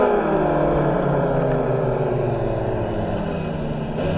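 Go-kart engine at a CPI Makassar racing circuit revving hard under throttle, a loud continuous buzzing drone that rises in pitch at first and holds steady and close throughout, with no talk over it.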